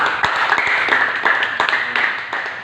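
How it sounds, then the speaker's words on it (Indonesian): A group claps together during a church class discussion, a short burst of sharp, fairly close hand claps with uneven rhythm. "Beri tepuk tangan dulu"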